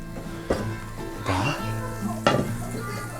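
Hot oil sizzles steadily in a hot pan as cottage cheese pancakes (syrnyky) fry, with a few sharp clinks and scrapes of a utensil against the pan.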